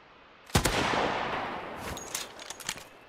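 A single loud rifle shot cracks sharply in a hunting video game, followed by a long echoing rumble and a few fainter scattered pops and clicks.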